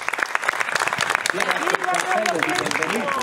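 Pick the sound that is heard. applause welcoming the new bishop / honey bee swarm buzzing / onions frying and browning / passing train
applause welcoming the new bishop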